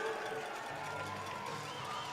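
An arena crowd at a youth girls' hockey championship game heading into overtime, a steady wash of cheering and shouting that stays fairly faint and continuous throughout.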